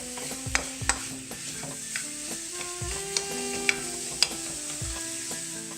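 Sausage browning in a pan, a steady close sizzle of frying broken by the scrape and clink of a utensil stirring the meat every second or so, with no voices.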